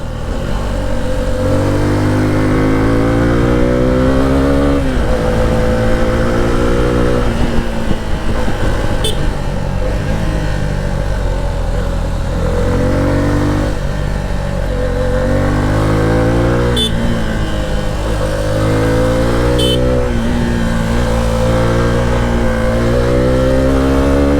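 A Suzuki V-Strom motorcycle engine accelerates steadily on a road, its pitch climbing and dropping through repeated gear changes, loud and continuous for the whole stretch with wind noise and no talk.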